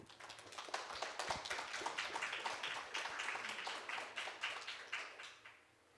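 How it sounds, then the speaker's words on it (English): A youth forum audience applauds a presenting panel with dense, sustained clapping from many hands that swells steadily, holds for several seconds, then fades out at the end. "Please give panel 3 a big round of applause"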